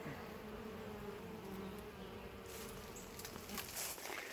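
A vigorous bee swarm buzzing in a swarm trap outdoors, a steady low drone throughout with brief brighter hissing bursts toward the end.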